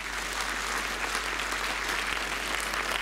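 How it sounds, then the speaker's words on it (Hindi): Steady applause from a seated audience at a religious welcome gathering, dense and even throughout with no voices over it. "तो जोरदार पुनः तालियां बजाइए।"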